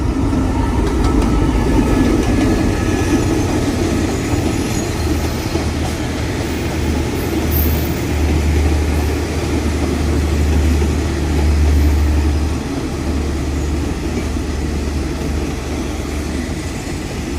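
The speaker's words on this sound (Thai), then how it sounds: "มาชมขบวนรถด่วนพิเศษที่ 14 นะครับ เชียงใหม่ไ ปทางกรุงเทพอภิวัตนะครับ ที่กำลังเข้าสู่สถานีอยุธยานะครับ" Special express train No. 14 from Chiang Mai pulling into Ayutthaya station before dawn: a loud, steady rumble of the train and rolling wheels, with a deep engine drone that swells and eases as the cars pass close by.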